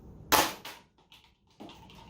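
Nerf Mega XL darts fired from a Max Launcher blaster: a sharp pop of air at launch, followed by a few softer thuds and clatters, heard close and alone.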